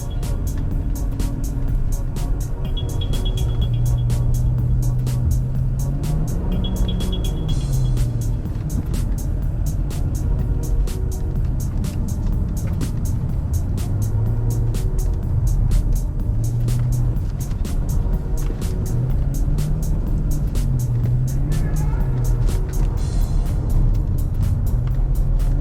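Dodge Charger driving up a snowy hill and sliding in a small loop, its engine a steady, close drone that rises and falls in pitch as the tyres break traction, with no talking.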